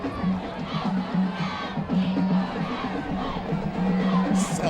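Sellout crowd cheering at a Texas high school football game on the Pearland High School campus, Manvel vs Pearland, a broad roar of voices with rising whoops and shouts, steady and loud from the stands.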